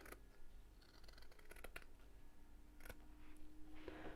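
Scissors snip through fabric in a curved arc while a festive sewn penguin is being made: a close, quiet series of crisp cuts with short pauses between them, and no talking.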